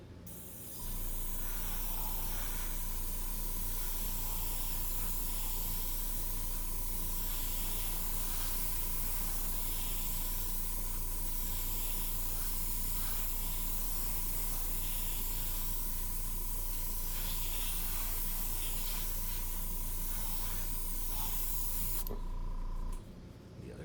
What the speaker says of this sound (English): So now I'm going to start moving up onto the sides and up onto the top.